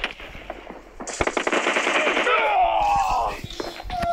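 Rapid bursts of M4 rifle fire from a video game, loud and close, with fast rattling volleys and trailing echoes while people talk excitedly over the shooting.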